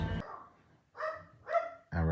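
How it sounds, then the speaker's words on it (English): A dog barks indoors in a home, a few short, close barks spaced about half a second apart, with a voice speaking around them. "If Rex will stop barking, we can hear Mitt snoring a little bit."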